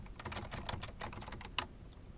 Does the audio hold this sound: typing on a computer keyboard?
yes